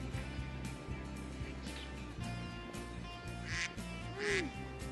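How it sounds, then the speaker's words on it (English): Ducks quack softly under a steady low background hum from a film scene, with a few faint, scattered quacks and honks near the end. "Ducks! Let's feed the ducks."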